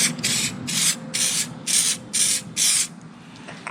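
Hylamar universal jointing compound sprays onto heat exchanger gaskets for a Detroit Diesel engine, six short hissing bursts in an even rhythm, close and clear, with a faint background hum.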